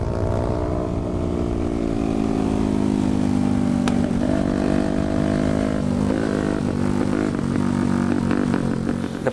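A Yamaha Y15ZR motorcycle fitted with big tyres revs loud and close, its engine note holding steady, then dipping and rising again in a continuous drone.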